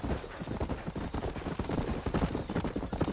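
Horse hooves clip-clop in a steady, quick gallop across New Austin in the video game Red Dead Redemption, loud and close, with no talking over them.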